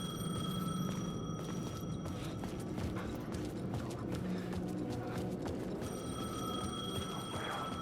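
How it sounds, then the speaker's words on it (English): A telephone rings in the Alan Wake 2 video game, a steady electronic ringing tone repeating against a busy background of mechanical clatter and ambient noise, moderately faint throughout. "The phone was ringing."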